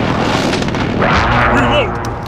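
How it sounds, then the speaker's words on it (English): Precision airstrike explosion in Call of Duty: Modern Warfare, a loud rumbling boom that swells midway and trails off, heard under in-game radio voices and battle noise. "Friendly precision airstrike on the way."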